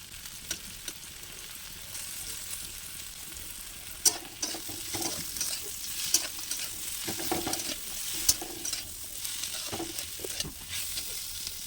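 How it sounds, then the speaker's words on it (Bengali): Black cumin seeds frying in hot oil in a pan for a jackfruit-seed paste, a steady soft sizzle with scraping stirs and a few sharp clicks, no voices. "কিছুটা কালো জিরে নিয়ে ওই তেলের মধ্যে দিয়ে দিলাম।"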